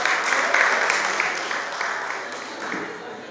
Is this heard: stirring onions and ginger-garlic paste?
no